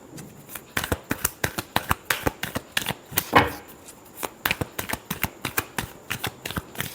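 A deck of tarot cards is shuffled by hand in quick, crisp riffles and taps, a rapid irregular run of close, dry flicks with one louder rustle partway through.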